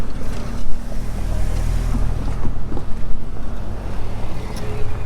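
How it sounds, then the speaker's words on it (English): Cars cross a bridge over the French Broad River in Marshall, North Carolina, their loud steady tire rumble and road noise rolling past close by, with wind buffeting throughout and no speech. "And some cars coming across it."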